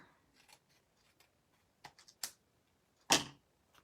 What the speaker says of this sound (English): Let us trim off our extra rickrack and white strip.